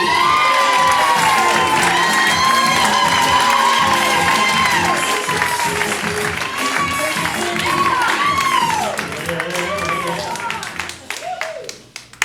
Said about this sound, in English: Let's have a huge round of applause for John Hruby.